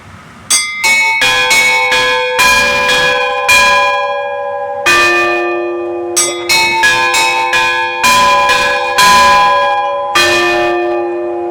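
Orthodox church bells ring out in a loud, clanging peal, several bells struck in quick overlapping strokes with long ringing decays, the pattern repeating in bursts with no voices.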